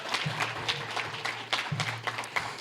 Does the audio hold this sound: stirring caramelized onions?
no